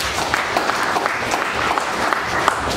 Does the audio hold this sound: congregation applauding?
yes